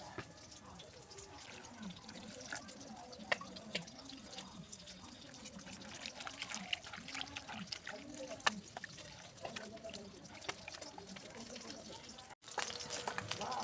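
Tap water runs and trickles steadily while freshly cut radishes are rinsed in a kitchen, a faint continuous flow with small splashes and drips.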